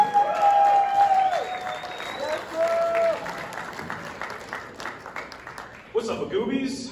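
An audience at a comedy talent competition applauds and cheers for the next competitor, with steady clapping and crowd noise throughout and an amplified voice speaking over it.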